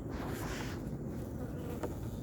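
A honeybee's steady buzz drones close by throughout, a continuous low hum without pauses.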